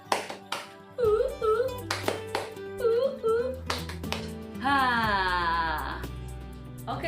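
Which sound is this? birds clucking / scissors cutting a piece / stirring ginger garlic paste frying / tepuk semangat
tepuk semangat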